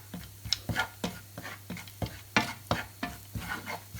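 Grated coconut being lightly roasted in a pan, stirred with a spoon that scrapes and taps in a regular rhythm over a soft, faint sizzle, close and without talk.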